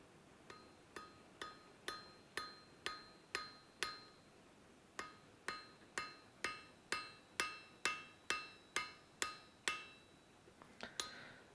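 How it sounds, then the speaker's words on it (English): Hammer blows peen rivet heads on forged Viking tongs held over an anvil, a steady series of about twenty sharp ringing metallic strikes, evenly spaced and fairly close, with a few quicker lighter taps at the end. "hovering the tongs over the anvil will start actually peening those heads in"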